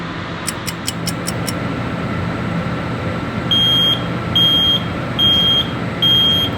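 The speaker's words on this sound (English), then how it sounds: "that's the sound of our timer going off." A kitchen oven timer goes off while a pumpkin pie bakes. Four evenly spaced electronic beeps sound over a low room hum, with a few faint quick ticks before them.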